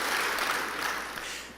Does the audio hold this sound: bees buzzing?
no